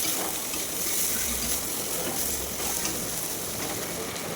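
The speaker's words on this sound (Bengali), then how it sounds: "ভালো করে নাড়াচাড়া করে নেবো।" Pressure-cooked potatoes and jackfruit fry in a pan while being stirred, giving a continuous, moderately loud sizzle with scraping and clattering strokes close by.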